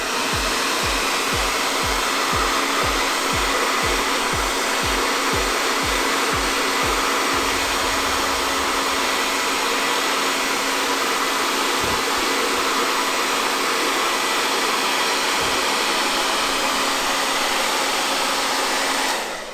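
Steady loud whoosh of a hair dryer on its cool setting, blown over lace glued to the scalp to set a wig. There is some low pulsing early on, then the airflow runs constantly with no talk.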